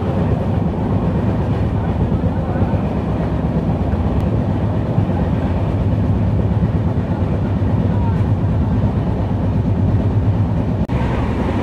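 An Antyodaya Superfast Express runs from Chennai toward Vijayawada, heard from inside a coach as a loud, steady rumble with continuous rhythmic clickety-clack of wheels over rail joints.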